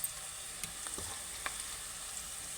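Eggplant curry frying in a pan while being stirred, a faint, even sizzle with a few soft scrapes and taps of a spoon; no one speaks.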